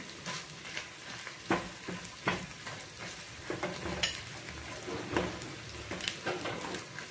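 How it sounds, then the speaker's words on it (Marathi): Two bay leaves dropped into Saoji mutton curry masala frying in oil, with a steady close sizzle and occasional sharp stirring scrapes and clicks against the pan, no voices. "आता आपण याच्यामध्ये 2 तेजपत्ते घालून घेऊया।"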